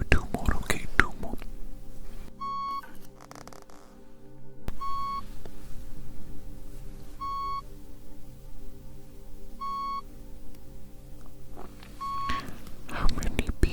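Short electronic test beeps in an ASMR hearing test, five evenly spaced clean tones heard close and clear over a quiet background, with soft whispering at the start and end.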